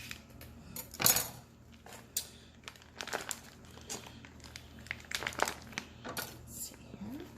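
Plastic packaging around a pork tenderloin being cut and opened, close crinkling bursts and rustles at irregular intervals with occasional clinks, fairly quiet.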